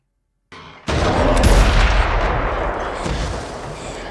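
A rifle shot from the film Wolf Man (2025) bursts out loud and sudden after a brief silence, with a heavy booming report that rolls into a long, slowly fading rumble.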